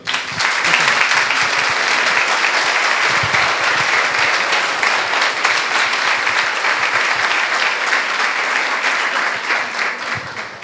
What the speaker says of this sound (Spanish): un gran aplauso al doctor